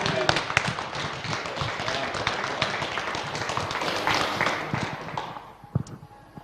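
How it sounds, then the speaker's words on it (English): A crowd claps and cheers for the third-place finisher at a Indianapolis GP speedway championship round, steady dense applause running throughout with a few sharper claps near the end as it fades. "Big round of applause, please, for Ben Brown."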